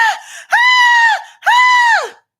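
A voice imitates loud theatrical screaming: three sustained, piercing wails, each rising then falling off at the end, with short gaps between them and no other sound.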